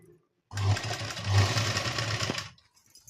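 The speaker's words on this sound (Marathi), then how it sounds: "ह्याच्यावर ही दाब शिलाई टाकून घ्यायची" Sewing machine top-stitching a press seam along the folded edge of fabric, running in one steady, loud burst of about two seconds with brief quiet before and after.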